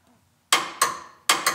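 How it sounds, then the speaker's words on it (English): A torque wrench set to 100 foot-pounds clicks four times while tightening a truck camper frame mount, sharp metallic ticks in two close pairs, fairly loud against near silence. "100 foot pounds if I can get my wrench in there."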